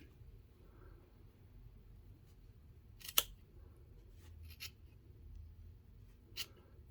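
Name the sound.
scissors cutting crochet yarn loops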